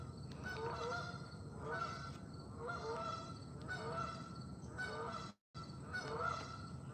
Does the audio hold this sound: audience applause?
no